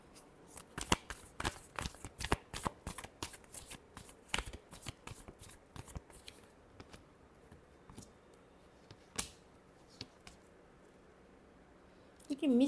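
Tarot cards riffle and slap together in quick repeated bursts of close shuffling, then a few slower taps and a pause before a voice starts at the end.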